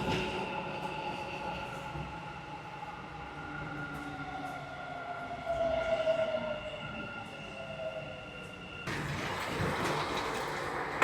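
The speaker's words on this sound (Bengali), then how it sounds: "ট্রেন ঢুকছে।" A Dubai Metro train pulls into a station, its electric drive whining in sliding tones over a steady rumble before a broad rush of noise swells near the end; no one speaks.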